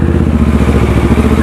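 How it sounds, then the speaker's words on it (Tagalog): Motorcycle engine running close by, a loud steady low throb with rapid regular pulsing, continuous throughout and without any voices. "basta ingay mula sa motor"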